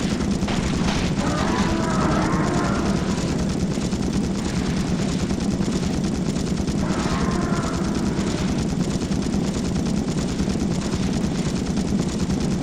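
A helicopter during a boss fight in the video game The Thing: Remastered, a loud continuous rotor thrum mixed with rapid gunfire and booms, with a whirring swell rising twice through the dense battle noise.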